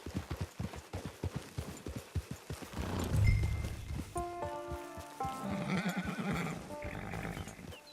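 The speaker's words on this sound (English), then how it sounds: "Get your horse." A horse in the video game Red Dead Redemption 2: rhythmic hoof clip-clops at first, then a drawn-out neigh and whinny rising over the hooves, with faint game sounds behind.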